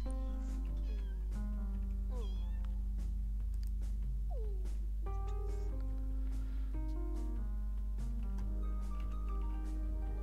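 Cat meowing in The Sims 2, a series of repeated mews and caterwauls of varying pitch, close and clear over a steady low hum, with no speech.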